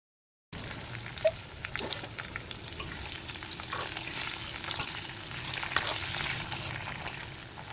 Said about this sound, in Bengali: আগে থেকে কেটে রাখা আলু পটলগুলো আমরা এই তেলের মধ্যে ভেজে নেবো